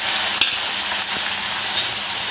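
Green chillies and curry leaves fry in hot oil, giving a steady bright sizzle with a few clinks and scrapes of a stirring utensil.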